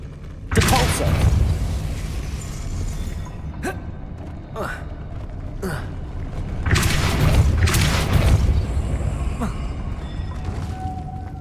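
A Depulso force spell cast in Hogwarts Legacy bursts out as booming, crashing impacts with a loud blast near the start and another around the middle, set against steady game ambience and magical clatter.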